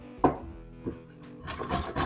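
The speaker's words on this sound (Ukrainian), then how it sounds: "Морквину натру на великій терці." Quiet, scraping rasps of a carrot being rubbed across a coarse grater, a few irregular strokes close up, with no voices.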